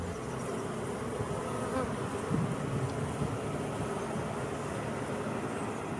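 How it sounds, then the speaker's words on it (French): Honey bees buzz in a steady, dense drone at an apiary of bee strains kept for queen rearing, filling the whole stretch with a continuous hum and no voices. "j'ai installé un rucher qui en fait sera un rucher où j'ai des souches d'abeilles"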